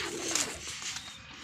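Rooftop pigeons in Bangladesh cooing close by, a short low murmuring call over steady outdoor hiss, with no talking.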